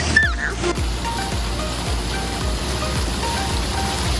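Splash pad fountains at a kiddie pool spray and patter with a loud, steady rushing hiss like heavy rain, broken by soft repeating thumps of water landing, heard up close without voices.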